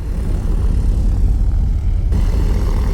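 The piston engines of a Piper Aztec airplane drone steadily and loudly close by, a continuous low throbbing rumble with no talking over it.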